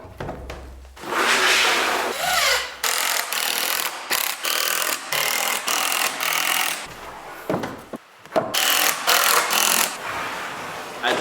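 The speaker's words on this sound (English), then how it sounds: "I just routed the other side of this piece" A router cuts along the edge of a wooden board for a tiny house build, loud and close. The whine comes in repeated passes broken by brief stops, with handling noise between them.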